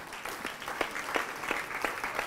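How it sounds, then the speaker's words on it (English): Audience applause at a conference on Nigerian youth in agriculture: scattered, separate claps ring out clearly through a soft crowd clatter, fairly close and moderately loud. "a round of applause,"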